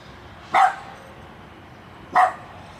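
Two sharp, loud dog barks, spaced more than a second apart, ring out close by over low background noise.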